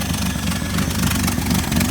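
Engine of a 1979 Ford F150 idling steadily just after a cold start, with its choke recently adjusted. The low, even rumble is loud and close and holds constant throughout, with no voices.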